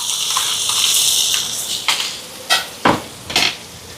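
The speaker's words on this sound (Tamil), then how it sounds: "வெங்காயம், பச்சை மிளகாய். இப்போ இது நல்லா வதங்கட்டுக்கும்." Onions and green chillies sautéing in oil in a large pot, a steady sizzle broken by several loud metal scrapes and clanks of a ladle stirring, close up with no talking.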